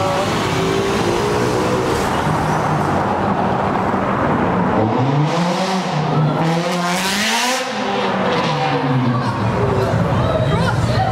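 Sports car drifting past loudly at a car meet, its engine roaring up and down with squealing tires, close and loud over a background crowd with people talking nearby.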